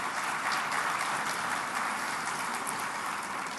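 Steady applause from an audience at the Staten Island State of the Borough address, a dense continuous patter of clapping that holds evenly throughout.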